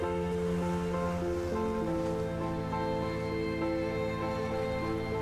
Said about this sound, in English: is that just water splashing?